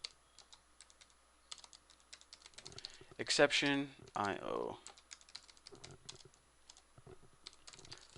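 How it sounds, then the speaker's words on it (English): Keyboard typing in short clicking bursts while entering Java try-catch code, with a person speaking over part of it. "I hate typing this freaking catch stuff"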